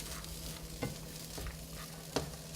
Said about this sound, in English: you can hear that's really sort of starting to sizzle and heat up now